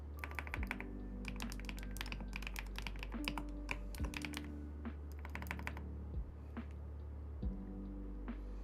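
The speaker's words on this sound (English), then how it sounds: "you get the new keyboard ASMR" Fingers type quickly on a new computer keyboard, close up, with dense bursts of crisp key clicks, brief pauses and occasional heavier thumps, with no voices.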